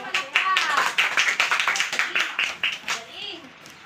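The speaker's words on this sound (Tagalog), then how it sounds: "Bigyan natin sila ng palakpak." A classroom of young students claps together in a burst of quick, close applause, with children's voices mixed in, before it fades and someone speaks.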